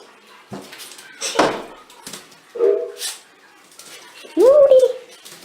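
A dog whines and yelps in short bursts, ending in a longer rising whimper, close by among scattered noises and movement.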